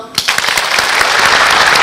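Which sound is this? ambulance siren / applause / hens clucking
applause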